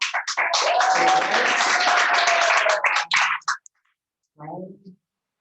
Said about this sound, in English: Let's give everybody a big round of applause to Brad.